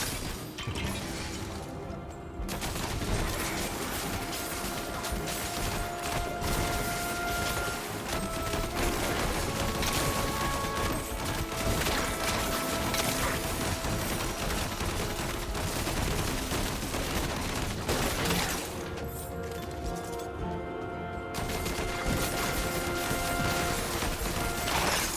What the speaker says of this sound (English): Kill cannon.